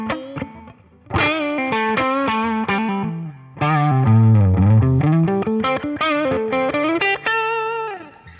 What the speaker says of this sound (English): Then I have an overdrive, which gives me kind of a bluesy overdrive.